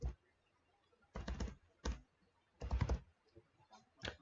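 Bursts of typing on a computer keyboard, used to rename a layer group in Photoshop: quick clusters of close, crisp key clicks broken by short pauses, with no talking.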